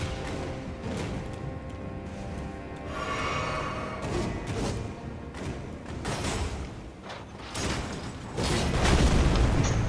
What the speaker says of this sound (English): Now we're about to try and cannon him then.